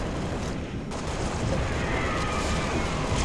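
Shotgun fire in the video game Halo: Reach comes as a loud, continuous wash of blasts and booming noise, with no voices heard.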